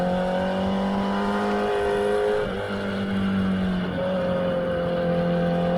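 A motorcycle engine drones loudly on a race track during a track day at Palmer Motorsports Park, its pitch dipping and shifting as it downshifts to second gear through the turns.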